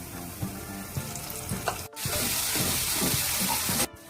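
Coconut masala hits onions already frying in a pan for a drumstick curry, giving a close, continuous crackling sizzle with a few stirring knocks and two brief cuts to near silence.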